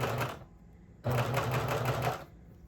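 Sewing machine hemming stretchy swimsuit fabric, running in two bursts, a short one then a longer, louder steady whir after a brief pause, close and without talk.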